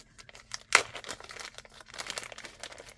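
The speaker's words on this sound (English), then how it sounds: "These are very sturdy plastic bags that they use, by the way." Sturdy plastic bags from a thrift haul crinkle close by, with one sharp crumple burst followed by scattered softer rustles and handling noises throughout.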